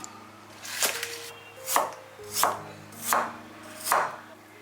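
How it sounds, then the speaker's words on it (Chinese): A knife chops scallion segments and ginger slices on a cutting board, five crisp evenly spaced strokes, close and clear with no talking. "来切一些葱段跟姜片"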